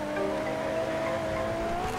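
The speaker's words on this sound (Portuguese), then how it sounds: "Olha esse carro. Vou capotar ele, ó." An engine drones steadily as a car drives in a video game, a loud continuous mid-pitched hum with a slowly rising tone and no talk over it.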